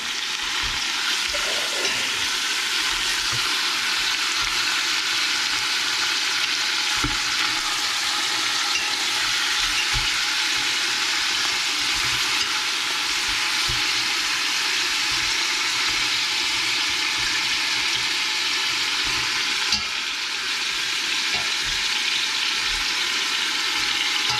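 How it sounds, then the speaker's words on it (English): Oxtails sear in a hot pan, giving a loud, unbroken sizzle that holds steady for the whole stretch, with only faint occasional ticks and pops and no talking. "now We done flipped it, we'll let that sear for about 3 or 4 minutes."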